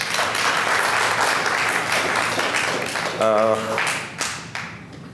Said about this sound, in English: We must clap for them as well